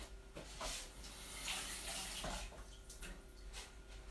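Tap water runs into a sink as fresh beetroot is rinsed, a faint, steady splashing trickle with small shifting bursts.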